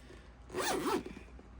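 A purse zipper pulled shut in one smooth, close, fairly loud zip lasting about half a second, with quiet room tone before and after and no talking.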